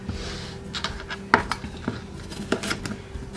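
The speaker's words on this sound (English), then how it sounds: "Make it into pieces. Cut it into pieces." A kitchen knife chops vegetables into chunks for sofrito on a cutting board, giving a few sharp, close knocks and light clatters spread unevenly, with one louder strike near the start.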